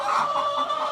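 Laying hens cluck in a steady, close, continuous stream of nasal calls, loud and alone.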